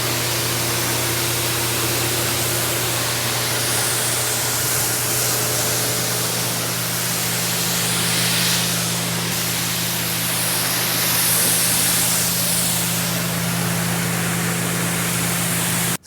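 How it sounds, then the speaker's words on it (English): Water sprays steadily from a garden hose through a Gilmore Foam Master 2 foam sprayer onto a Le Mans Blue 2013 BMW M3 E92. The hiss stays loud and unbroken throughout. "washing this car with a garden hose and a Gilmore Foam Master 2"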